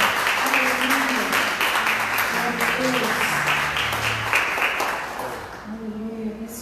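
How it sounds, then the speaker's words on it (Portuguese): A church congregation applauds for the Lord, steady clapping mixed with singing or sustained musical voices, fading slightly toward the end as the tones continue. "Dê uma salva de palmas para o Senhor."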